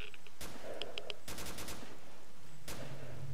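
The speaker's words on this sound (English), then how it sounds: "I can definitely hear gunshots" Gunfire in the shooter game Stalker Misery 2.1 sounds as several sharp cracks, a close burst and scattered single shots over steady ambient game noise, with no voice.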